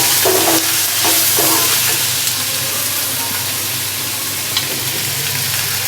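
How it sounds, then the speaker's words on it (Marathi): Matar paneer gravy of tomato, red chilli powder and onion-coconut masala being stirred and sautéed in a pan, a steady close frying sizzle with scraping spoon strokes throughout, no talking. "आणि ही ग्रेव्ही मी चांगली मिक्स होईपर्यंत जरा परतणार आहे"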